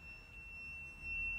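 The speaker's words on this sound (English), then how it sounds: "The alarm is going on right now" A building alarm sounds inside an office full of cubicles, a thin, steady high-pitched tone that holds without a break and stays faint against a low background hum.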